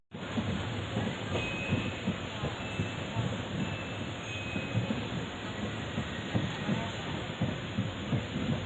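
The Guruvayoor Madurai Express pulls away from a railway station, a steady rumble of rolling wheels with rhythmic clacks over rail joints and a faint wheel squeal, close and continuous.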